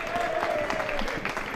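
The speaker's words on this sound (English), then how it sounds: "Sounds like the few have came across from pitch 2 to join in the crowd applause." Spectators at a men's reserve hockey cup final applaud outdoors, a short burst of steady clapping from a modest crowd, close and continuous.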